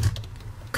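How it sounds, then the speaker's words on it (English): Typing a terminal command on a computer keyboard, a brief burst of soft key clicks heard close up, with a low hum underneath. "So how we do that is we type Conda update"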